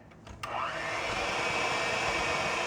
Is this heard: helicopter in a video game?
no